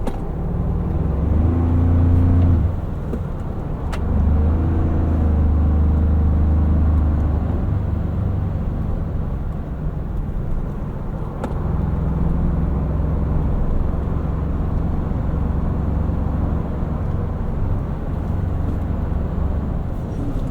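Inside a 2025 Toyota 4Runner Off Road Premium SUV driving off road, a steady low engine drone and road rumble fill the cabin, swelling slightly early on and then settling into a constant hum.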